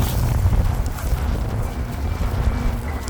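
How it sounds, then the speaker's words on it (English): Strong wind buffets the microphone with a constant low roar and rumble outdoors. "it's so windy"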